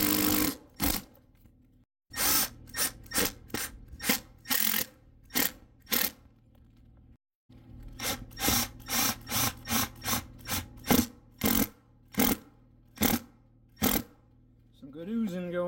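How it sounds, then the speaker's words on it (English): Power driver sinking 2-inch lath screws through molding on a PVC membrane RV roof, a series of sharp whirring bursts, each about a second long, starting and stopping in steady succession up close with brief pauses between. "I'll just be using these 2-inch lath screws to put the molding back down again."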